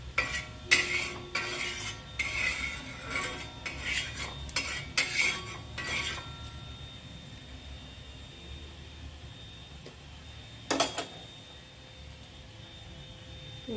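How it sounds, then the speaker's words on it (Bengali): Paneer frying in about two tablespoons of hot refined oil on a tawa, with metal utensils clinking and scraping busily at first before settling into a quieter, steady hiss. "এবার পনির ফ্রাই করে নেব।"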